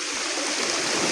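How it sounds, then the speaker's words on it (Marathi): Water pours in a steady, rushing gush at an outdoor chicken party, loud and close for a moment with no talk. "पाणी टाकलं."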